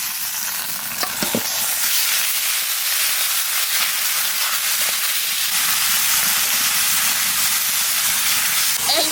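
Chicken meat goes into a pan of frying onions, giving a loud, steady sizzle and hiss that continues throughout with faint clinks of stirring.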